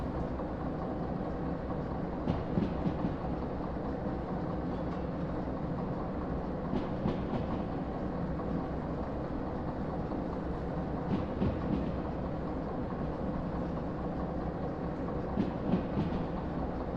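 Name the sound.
train braking in a train simulator video game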